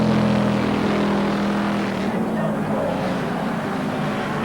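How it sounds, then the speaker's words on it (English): Production motorcycles, including a Yamaha 1100 and a BMW, race at the 1978 Amaroo Park six-hour event, their engines making a constant loud, steady roar for the whole stretch, with a commentator's voice faintly mixed in. "The bike behind him, the Yamaha 1100 of Hayes and Budd, definitely does not have to change a tyre"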